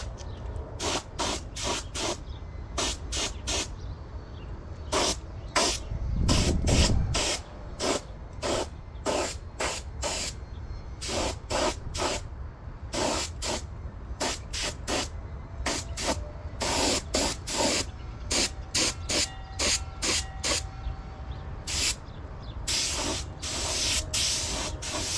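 A second coat of spray paint going onto parts of a 1972 Honda CB500 Four project bike: many short, loud hissing bursts, fired in quick irregular succession for the whole stretch.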